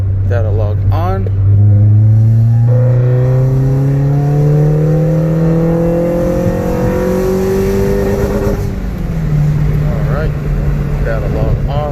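A tuned Honda car pulls hard in third gear, its engine note climbing steadily for several seconds, loud and close, before a brief shift and a settle back. A voice speaks faintly at the start.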